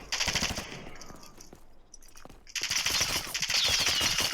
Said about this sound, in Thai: มันยิงเข้ามาเลย